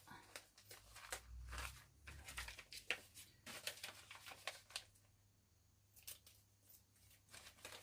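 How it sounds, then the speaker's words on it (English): Scissors snip through a plastic piping bag for piping a cupcake bouquet, giving several sharp, close cuts mixed with crinkling and rustling of the bag. "we're going to snip that"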